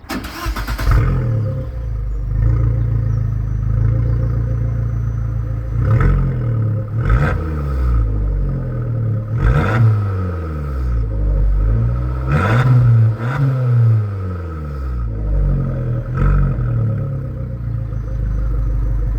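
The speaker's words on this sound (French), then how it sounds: "Maintenant, on va écouter le son de la voiture" An Abarth 595, a small Italian city car with its engine warm, starts up with a sharp burst and then idles, revved in a series of blips that rise and fall several times, loud and close, with no talking.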